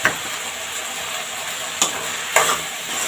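Tomato paste sizzles and fries in a hot pan while being stirred for a quick spicy pasta, a steady bright crackle with a couple of sharper scraping stirs, close and alone.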